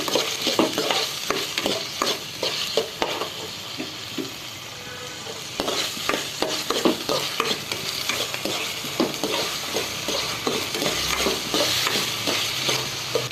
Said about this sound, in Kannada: ಆನಿಯನ್ ಹಾಕೋರಿ ಮತ್ತು ಟೊಮ್ಯಾಟೊ ಹಾಕೋರಿ ಗ್ರೀನ್ ಚಿಲ್ಲಿ ಹಾಕಿ ಆಮೇಲೆ ಇದನ್ನ ಸರಿಯಾಗಿ ಫ್ರೈ ಮಾಡ್ಕೋರಿ